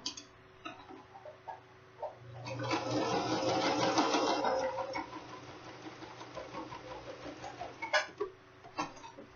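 Domestic sewing machine stitching bias binding onto fabric, a close whirring run of rapid needle ticks that swells for a couple of seconds and then gives way to scattered small clicks and handling noises.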